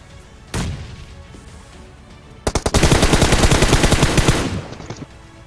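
PUBG gunfire crackles loudly: one early shot, then a long rapid automatic burst of closely spaced cracks lasting about two seconds before tapering off.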